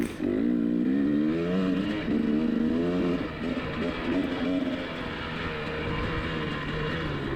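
A motocross motorcycle on a dirt track, with its engine droning loud and close from a rider's perspective, rising and falling in pitch as the throttle opens and eases through the ride.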